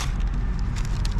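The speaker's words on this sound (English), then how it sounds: "Excuse the noise guys, we're not far from the highway here" A steady wash of distant highway traffic noise, low and rumbling, with no clear individual vehicles standing out.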